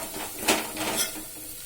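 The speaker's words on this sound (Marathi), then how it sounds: "पाव टीस्पून हळद आणि तिखट घातल्यानंतर पण व्यवस्थित परतून घ्यायचंय आपण।" Black-eyed bean and potato masala with turmeric and chili powder is stirred in a pan, a brief burst of hissing sizzle with two quick scraping strokes of the spatula.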